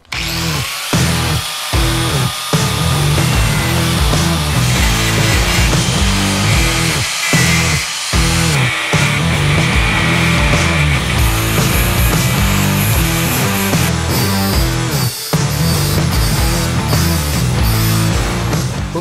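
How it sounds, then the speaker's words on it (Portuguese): A Dremel rotary tool grinds at a shipping-container window frame, a loud continuous whining buzz with brief dips and restarts throughout, close and alone. "Tentando fazer com a Dremel aqui,"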